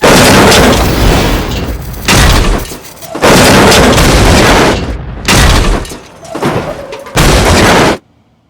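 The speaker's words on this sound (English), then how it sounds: "We hit a gas pipe, it's gonna blow!" Several loud booming blasts from a gas pipe explosion come in a row, each a heavy broadband burst lasting about a second, separated by brief quieter gaps before falling silent.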